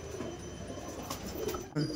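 Short-sized pigeons in a backyard loft coo in soft, low rolling notes throughout, fairly close, with light background noise and a brief thump near the end.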